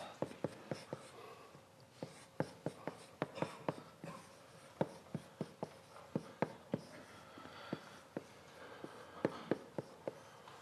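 Chalk tapping and scraping out equations on a lecture-hall chalkboard, a long series of sharp clicks in uneven bursts, close and moderately loud with no voice over it.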